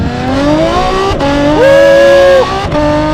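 Novitec-tuned Ferrari F12 V12 roaring loudly and close, rising through revs in a sustained howl that climbs and holds before easing off, with brief gaps between gear changes.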